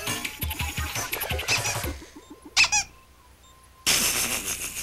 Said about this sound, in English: Squeak my rubber ducky, Frankie!